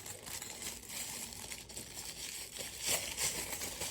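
Wrapping paper crinkles and rustles as a Coach runway bag is unboxed. The sound is close and fairly quiet, made of uneven handling crackles with a few sharper crunches near the end.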